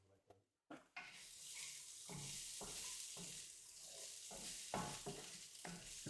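Onions frying and sizzling in a pan, stirred with scraping strokes in repeated bursts over a steady hiss, close by, after a brief quiet start; no talk.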